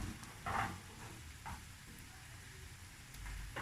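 A pancake of leaf peas sizzles quietly in a frying pan, a soft steady crackle and hiss with a few louder pops, close by and with no talking.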